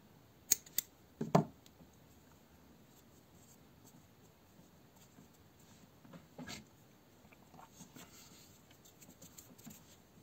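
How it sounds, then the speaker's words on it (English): Scissors snip through crochet yarn in a few quick, close clicks early on, followed by near silence with faint handling rustles. "And cut yarns."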